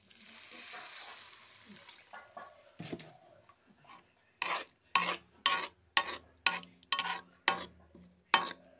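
Water is added to a cooking pan of sticky glutinous rice flour mixture, starting as a hissing sizzle, then a series of about eight sharp, rhythmic stirring scrapes with near, fairly loud rasping strokes.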